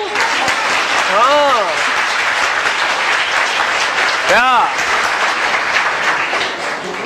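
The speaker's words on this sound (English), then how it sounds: "So clap and tell me no." An audience claps during a lecture talk, dense sustained applause close and loud throughout, with a couple of rising vocal whoops and a brief spoken word over it.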